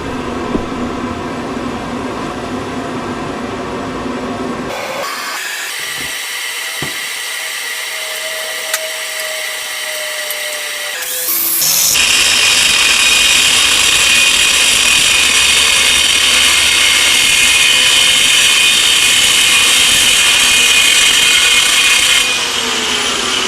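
A power tool grinds the ends of Chevy Nova axles, a loud sustained whine that changes pitch partway through, drops out briefly, then returns harsher and louder, close up with no speech.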